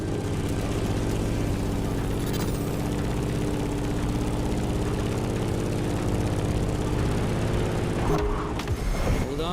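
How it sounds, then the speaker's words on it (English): Grumman F-8F Bearcat propeller plane in The Crew Motorfest, its piston engine droning steadily and loudly with a low, even hum throughout, changing pitch briefly near the end. "In the cockpit of a stunning Grumman F-8F Bearcat, or simply the Bear."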